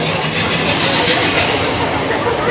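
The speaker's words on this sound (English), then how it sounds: "Carmen said, okay, this train ride is very loud, Auntie Katie." A loud Disneyland train ride gives a dense, constant roar of wheels and rattling carriages with a hissing edge, close and unbroken throughout.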